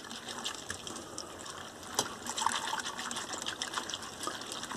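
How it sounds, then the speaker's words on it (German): Ground flaxseed being stirred into a liquid, giving a steady wet swishing and sloshing with a soft clink near the middle, close and continuous with no talking. "Schön rühren."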